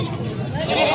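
A goat bleats at a busy livestock market in Padre Garcia, Batangas. A single short, wavering cry rises at the end over nearby people talking.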